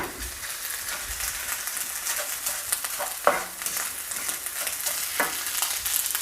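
Greens and shallots tossed in a hot frying pan, a continuous sizzle with scraping stirs and occasional louder clatters of the utensil, close and without talk.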